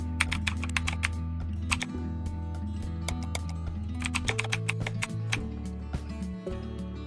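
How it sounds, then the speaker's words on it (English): Someone types on a computer keyboard in short bursts of close, crisp keystrokes during a Photoshop session, over a steady low hum. "I will double click on the text and start typing."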